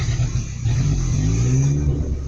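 A truck engine with its exhaust system fallen off and a low battery revs after stalling, a loud, continuous low rumble with rising and falling pitch that fills the whole stretch, close by.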